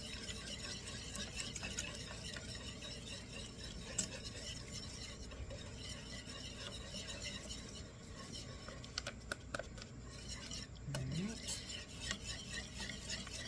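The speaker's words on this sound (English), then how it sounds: "And now we're going to add our pectin. Whisk that in." Pectin being whisked into a pot of peach jam with lemon juice, a steady close scraping and stirring with faint metallic clinks against the pot, fairly quiet, no talking.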